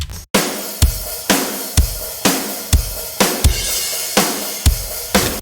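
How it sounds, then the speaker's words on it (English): A full drum kit plays alone, steady kick and snare hits with cymbals washing over them, loud and close, about ten strong beats. "Drums solo sound like this."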